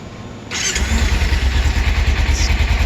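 A Lifan KPR 200 motorcycle with factory exhaust, nearly new, starts up and settles into a steady, fairly quiet idle close by, its low throbbing pulse running evenly with no talk.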